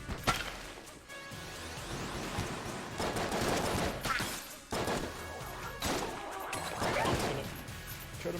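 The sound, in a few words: gunfire and bullets in the video game Enter the Gungeon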